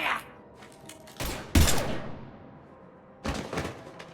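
Gunfire sounds in the video game Mass Effect Legendary Edition as a few sharp, booming bursts with gaps between them, loud and near, with faint game sounds in the pauses.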